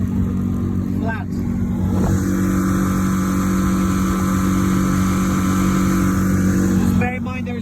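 Motorboat outboard engine running steadily at speed on the Narew River with no extra load, a loud continuous drone close by; a voice briefly speaks over it at the start and end.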